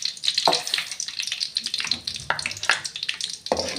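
Chana dal frying in a pan for masala dosa, a close, continuous sizzle broken by scraping stirs and a few sharper clatters.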